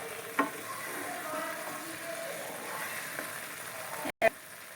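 Motichoor laddu mixture being stirred in a pan until firm, a faint steady scraping with a soft sizzle throughout, a few light knocks and a brief dropout near the end.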